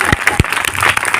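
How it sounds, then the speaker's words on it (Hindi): Loud applause from an audience at a children's values program at a religious katha gathering, rewarding a student's answer; dense clapping with a couple of sharper bursts, close and continuous over a short stretch. "जोरदार ताली।"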